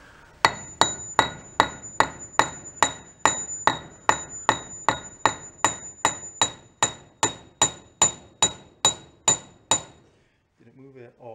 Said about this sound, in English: See if we tap it with a brass rod.